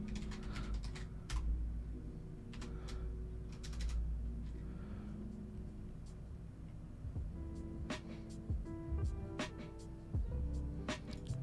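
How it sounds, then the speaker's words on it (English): Quiet, steady clicking of keys on a computer keyboard, with bursts of faster keystrokes over a low background hum, close up and alone. "Let's type in mdadm"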